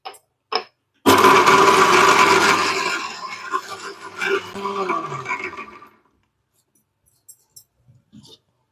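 A mixer grinder grinding coconut whirs loudly for about five seconds, its motor straining and wavering, then stops, followed by a few faint clicks.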